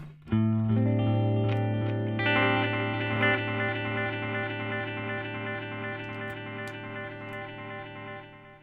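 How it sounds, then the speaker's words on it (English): A digital delay guitar pedal with its feedback turned up makes a strummed guitar chord ring on, its echoes repeating and piling up into a sustained, slowly fading wash of sound. "It's like an echo pedal"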